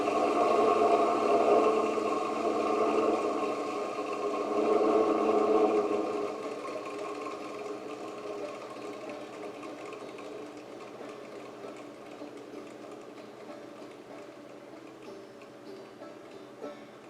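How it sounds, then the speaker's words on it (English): An electric motor ramps up under a Motortronics LS2-48150-N soft starter, its steady whirring hum loud at first, then easing to a quieter, even drone that runs on alone. "Look how nice that soft start brought that motor up to speed."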